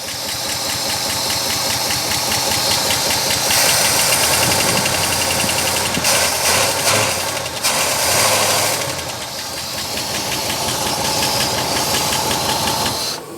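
A 1963 Oldsmobile 98 engine runs steadily after being started, a loud continuous mechanical drone with some knocking texture, heard alone without talk.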